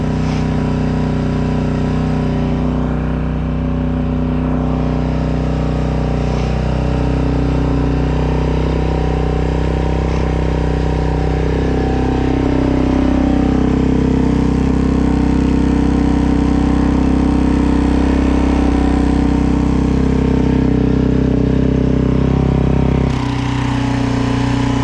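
A Suzuki DRZ400 motorcycle engine running after a cold start, loud and close, holding a steady lumpy idle with a few mild swells in pitch and a brief dip near the end.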